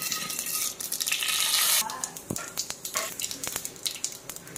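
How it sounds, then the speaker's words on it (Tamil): Mustard seeds and urad dal spluttering in hot oil, first a loud steady sizzle, then quick irregular pops and crackles that continue close by. "எண்ணெய் இப்போ நல்லா காஞ்சிச்சு, நம்ம கடுகு சேர்த்துக்கலாம். கடுகு நல்லா பொரியட்டும்."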